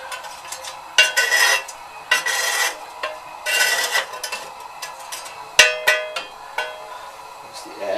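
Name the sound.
ash being shoved back off fire bricks in a stove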